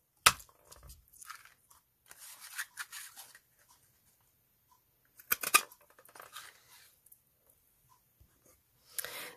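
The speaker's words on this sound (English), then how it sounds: "get the butterfly punch and we're going to cut a couple of wings out" A butterfly punch cuts wings out of card for a handmade card: soft, quiet clicks and crunching snips come in a few short bursts separated by silence.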